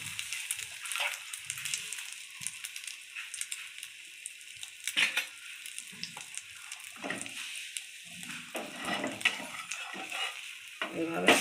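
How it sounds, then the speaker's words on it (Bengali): Egg-coated bread fries in a pan with a soft, steady sizzle and occasional scraping and turning sounds, fairly quiet and with no voices. "এই পাশটা হয়ে গেছে, আবার এই পাশটা ভেজে নিচ্ছি।"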